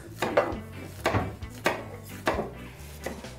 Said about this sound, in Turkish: Küp küp doğrayacağız.